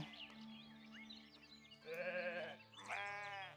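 Sheep in the video game Foundation bleat twice in quick succession, clear and fairly close over a quiet, faint game background, with no talking.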